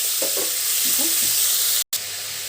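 Broad beans sizzle in hot oil in a pan with curry leaves and garlic for an Andhra-style beans fry, a steady close hiss with faint stirring and a voice under it, broken by a brief cut near the end.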